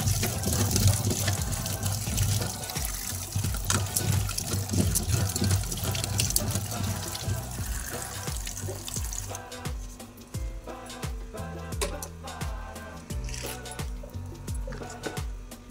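Potatoes are washed under a running kitchen tap, with a steady splash of water into a sink that gives way to intermittent clunks and rinsing sounds, close and moderately loud.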